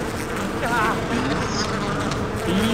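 In a video game, a broken nest releases a swarm of bees that makes a continuous, thick hum, while shouting voices and game noise sit on top of it.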